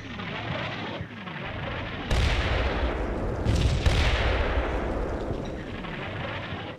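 Artillery barrage in a Cold War tactical war video game: a steady, loud rumble of overlapping explosions and blasts, with heavier booming impacts swelling partway through and continuing to roll on.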